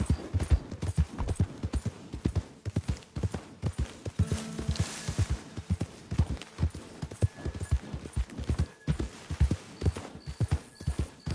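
Horse hooves clip-clop in Red Dead Redemption, a steady walking rhythm of crisp, fairly close hoof strikes that continues throughout, with faint background ambience and no talk.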